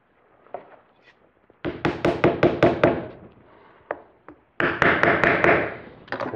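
Pool table cloth gets tapped down along the center of the bed during a home build: a quick, close run of crisp taps, a pause with a few scattered knocks, then another fast burst.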